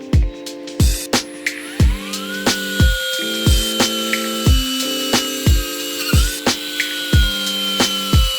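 Rubber is cut away from a car suspension bushing with a power tool: a loud sustained whine with a steady pitch, broken by regular sharp knocks about every 0.6 seconds, close up with no talking.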